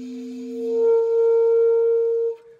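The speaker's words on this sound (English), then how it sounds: "We just want to hear the sound of that upper G" A saxophone holds a sustained upper-register G after a brief lower tone at the start, clear and steady for about two seconds before stopping.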